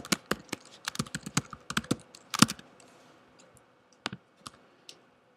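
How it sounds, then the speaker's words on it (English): Fingers type on a computer keyboard while code is entered, a close, uneven run of crisp key clicks that thins out and then resumes with a few final taps. "do a good job of typing here"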